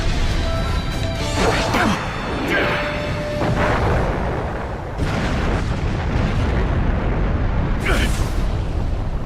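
An explosive flame detonation in the video game Naruto Shippuden: Ultimate Ninja Storm 3 sends loud, dense booms and crashes through a busy mix of game sound, with a few sharp bursts standing out.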